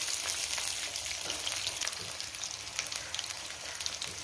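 Diced potatoes frying in mustard oil with whole cumin seeds, stirred in the pan: a steady, close, dense sizzle running throughout with faint scraping of the stirring underneath, no voices.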